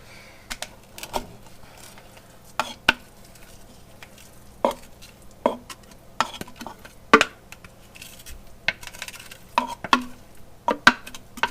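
A spoon stirring a shrimp and pork wonton filling in a bowl, sharp scraping clinks and wet squelches repeating at an uneven pace, close up with no voices.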